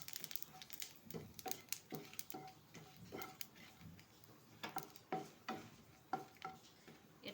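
Dry red chillies fry in a pan with soft sizzling, while a spatula stirs them in an uneven run of sharp clicks and scrapes, fairly close and quiet.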